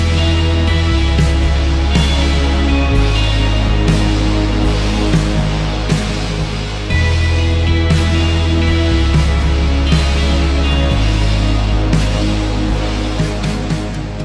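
Fragment of an old unreleased music demo track: a steady electronic piece with a sustained deep bass line that shifts pitch every couple of seconds under layered synth tones and regular percussive hits, loud and continuous throughout.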